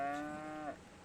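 A single drawn-out cow moo from a pen at an Iowa farm, fairly close, rising slightly and then cutting off, followed by quiet.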